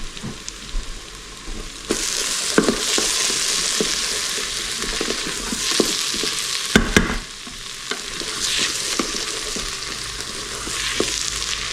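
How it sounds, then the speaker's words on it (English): Tomato paste fries in a pan for a Napoli-style tomato sauce while it is stirred, giving a steady close sizzle broken by scraping stirring strokes, with no voices. "Whenever you're using tomato paste, it's very important to fry it off."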